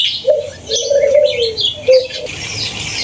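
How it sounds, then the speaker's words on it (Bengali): A dove coos in a small zoo, its low hooting notes rising and falling clearly in the foreground, while faint chirps of other birds sound in the background. "ঘুঘু পাখি"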